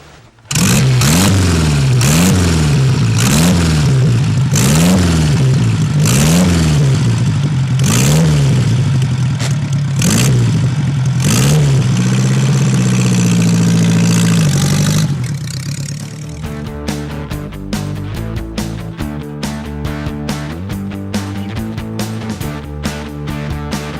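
A vintage kick-started Ace motorcycle engine with a 3-speed transmission revs repeatedly in loud, rising bursts, then settles into a steady, lower idle with a lumpy, uneven rhythm.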